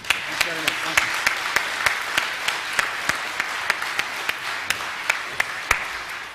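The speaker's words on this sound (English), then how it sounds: "I wish you to join me in applause for a wonderful presentation" A conference audience applauds after a presentation on game-based learning. The applause is a dense, steady wash of clapping from many hands, with a few sharper individual claps standing out.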